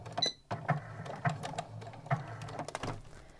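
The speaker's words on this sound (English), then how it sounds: "when I get to the end, just do a back stitch again" A domestic sewing machine runs short bursts of back stitching at the end of a French seam on a garment, with rapid mechanical chattering that starts and stops several times, close and moderately loud.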